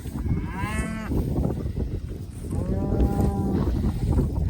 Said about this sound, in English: It's Liam's cow